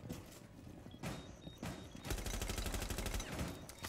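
Gunfire in the tactical shooter Rainbow Six Siege, a rapid burst of automatic rifle shots from the operator Jaeger, loud and close, following a few scattered single cracks and game noise.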